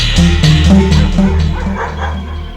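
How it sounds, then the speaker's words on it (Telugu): Several dogs bark loudly and repeatedly in an insistent, uneven rhythm, with a steady ringing telephone tone underneath, in a scene from a Telugu film. "అటు టెలిఫోన్ ఇటు కుక్కలు ఒకదానికోటి పోటీ పడి అరుస్తున్నాయి"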